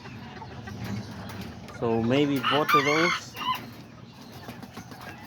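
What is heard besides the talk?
chickens and rooster clucking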